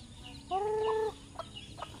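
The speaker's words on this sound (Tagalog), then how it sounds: "Tinutuka naman ng mga manok" A chicken gives one clear drawn-out cluck while hens peck at leftover cooked rice, followed by soft scratching and pecking sounds at close range.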